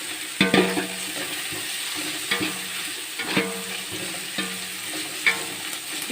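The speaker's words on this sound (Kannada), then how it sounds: "ಕೊತ್ತಂಬರಿ ಸೊಪ್ಪು ಹಾಕ್ಬಿಟ್ಟು ನೋಡಿ ಈ ಥರ ಬಾಡಿಸ್ಕೋಬೇಕು" Coriander leaves sauté in hot oil for Arabian-style dum biryani, a steady close sizzle broken by several sharp spoon scrapes and stirs at irregular intervals.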